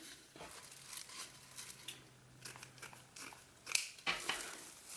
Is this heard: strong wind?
no